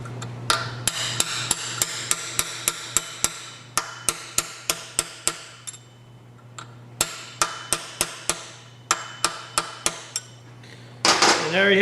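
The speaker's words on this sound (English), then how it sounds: "the rear roll pin will go in. Put it through like that. Drive the roll pin in." A hammer drives a roll pin into a transmission axle on a four-speed gearbox, with sharp, close metallic strikes repeated in quick bursts and brief pauses between the runs of blows.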